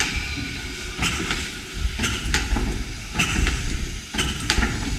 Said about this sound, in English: So to get this engine started, let's give it some steam.